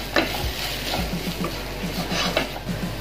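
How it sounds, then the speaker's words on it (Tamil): Masala spices fry in a pan for a mutton pepper gravy, a steady close sizzle broken by rhythmic scrapes and taps of a spoon stirring. "இந்த மசாலாவை லைட்டா வதக்கின உடனே மட்டன் தண்ணியை சேர்த்துக்கலாங்க"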